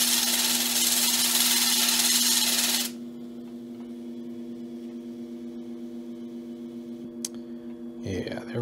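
A fire agate stone being shaped into a cabochon on a grinding wheel gives a loud rasping grind for about three seconds, then only the motor's steady hum remains, with brief clicks and handling noise near the end.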